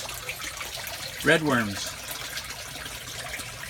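Water trickling and dribbling through a recirculating aquaponic setup with a gravel-filled worm box, a soft continuous wash heard close by while someone briefly speaks over it.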